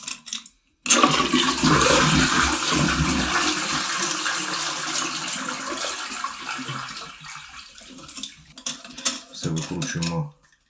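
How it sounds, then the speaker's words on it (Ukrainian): A toilet flushes with a loud rushing gurgle that gradually tapers off, followed by some clunks and handling noises. "щоб можна було натиснути і злити воду"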